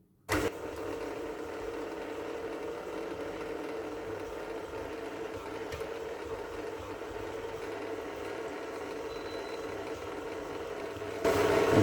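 A stand mixer runs at low speed, blending roasted almond powder with icing sugar for a fig tart, a continuous even mechanical hum that holds steady throughout and grows a little louder at the very end.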